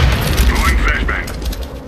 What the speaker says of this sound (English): Going flashbang.